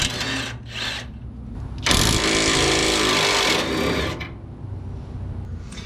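Power tool, likely an impact wrench, removing the lug nuts from a wheel of an old truck, a loud buzzing burst of about two seconds mid-clip between quieter mechanical rattling.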